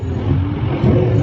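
Engine noise from an arcade racing video game at a mall rises in a loud, rough rev, heard up close over the hum of the arcade.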